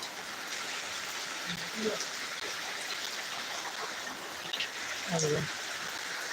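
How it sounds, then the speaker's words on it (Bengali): Continuous heavy rain falls steadily as a broad, even hiss outdoors, with a few faint voices or other sounds rising briefly over the downpour. "অবিরাম বৃষ্টি"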